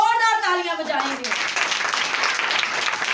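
A church prayer meeting congregation breaks into loud, dense clapping that swells after a speaking voice fades, continuing as a steady crowd applause.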